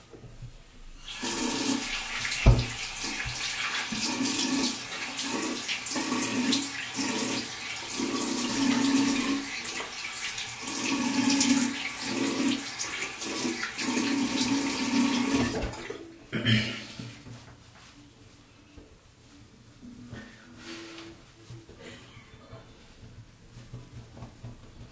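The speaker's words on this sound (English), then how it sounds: "we'll just rinse out the rest of this excess alum" Tap water runs steadily into a basin for about fifteen seconds while leftover alum is rinsed off after a shave, then cuts off abruptly, leaving only faint drips and room quiet.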